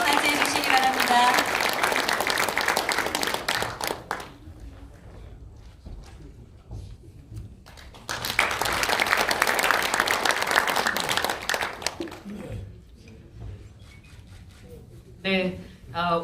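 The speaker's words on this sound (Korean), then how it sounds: "큰 박수로 맞이해 주시기 바랍니다." An audience at a New Year's political gathering applauds to welcome a speaker, giving two loud bursts of dense clapping separated by a quieter stretch, then fading as the room settles.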